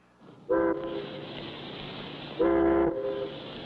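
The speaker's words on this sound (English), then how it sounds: "That's the first boat whistle that's sounded in 3 weeks." Two long, loud horn-like boat whistle blasts in a cartoon, the second starting about two seconds after the first ends, with a steady low rumble underneath.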